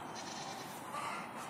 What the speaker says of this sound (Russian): Ты козу боишься?